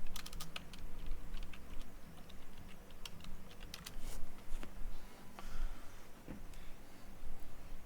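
Rapid, uneven typing on a computer keyboard while programming, with clicky keystrokes at close range and no voices.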